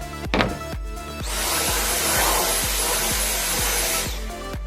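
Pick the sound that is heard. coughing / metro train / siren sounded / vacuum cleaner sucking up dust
vacuum cleaner sucking up dust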